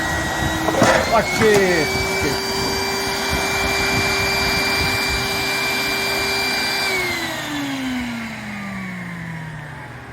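A vacuum sucks up a large bee swarm, its motor whine holding steady, then dropping in pitch as the suction is lost, with a voice briefly speaking early on near the machine.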